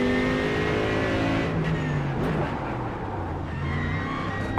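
GT3 race car engines droning steadily in an endurance racing game at the Red Bull Ring, a continuous loud engine hum with shifting pitch as cars run near the pits, with no talking.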